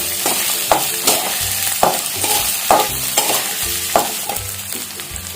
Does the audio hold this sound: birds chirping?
no